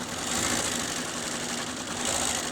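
A Bernina B570 QE sewing machine runs steadily as it stitches fabric at a 4 mm stitch length. It gives a continuous close, loud mechanical whir with a fast rhythmic hum and no voices.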